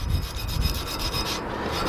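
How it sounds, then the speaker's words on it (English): A wire brush scrubs a front brake part on a 1997 Ford Expedition 4.6, giving a steady, close, rough rasping that runs continuously for about two seconds with no talking. "wire brush this"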